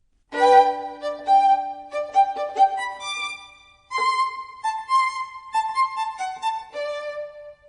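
A solo violin plays a short bowed melody, clear harmonic notes moving through a phrase, a brief pause, then a second sustained phrase, close and alone.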